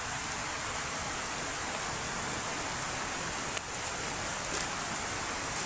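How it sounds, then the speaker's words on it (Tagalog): Heavy rain falling steadily on dense bamboo leaves in a forest, a continuous even hiss with a few louder drips, no voices. "grabe napakalakas na ng ulan ngayon"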